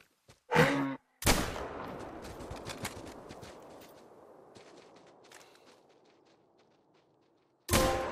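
A hunting rifle fires in theHunter: Call of the Wild with two sharp, loud cracks close together, and a long echoing tail fades into quiet before a third shot rings out.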